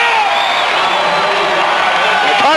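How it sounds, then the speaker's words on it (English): A Connersville crowd at a high school basketball game rises in a loud, sustained roar of cheering and whoops, with a commentator's voice over it. "The Connersville crowd is back in it as they're starting to come to their feet."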